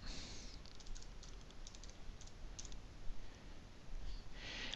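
Four light taps on the Tab key of a computer keyboard, soft, quick clicks spaced across a quiet room with faint background hiss.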